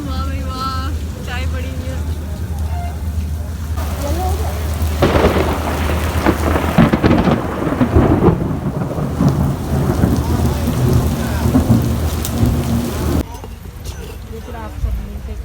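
Heavy rain pours steadily on a train journey from Karachi while rolling thunder swells and rumbles through the middle, then eases back to a dense downpour.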